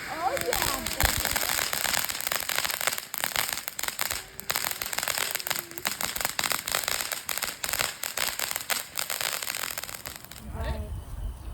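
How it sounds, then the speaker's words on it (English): Fireworks and firecrackers at an Independence Day celebration, loud, continuous crackling and popping bursts filling the scene, with people shouting and cheering throughout. "Then we'll have some awesome fireworks."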